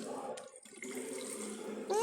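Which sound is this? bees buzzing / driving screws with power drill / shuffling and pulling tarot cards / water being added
water being added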